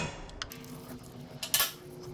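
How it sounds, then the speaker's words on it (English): Metallic clicks and clinks from a ratchet working 10mm bolts off the oil filter covers of a Honda Talon side-by-side, a few faint scattered ticks with one sharper clank near the end, heard alone and close. "We'll loosen these up with the ratchet, then pull them off by hand."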